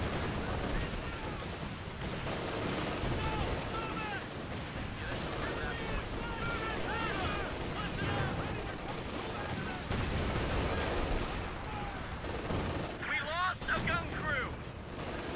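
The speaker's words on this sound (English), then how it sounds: "He's got an MG in there." Dense battle noise from the Company of Heroes video game, with continuous gunfire and rattling machine-gun bursts under rumbling explosions, sustained throughout while players talk excitedly over it.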